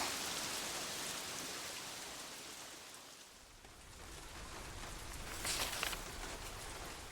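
Steady rain falls in a continuous soft hiss and patter, dipping briefly in the middle and then swelling again, with no voices.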